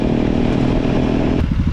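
An Aprilia Tuareg 660 motorcycle engine roars loudly up close, revving with a rough, clattering growl that briefly changes pitch near the end.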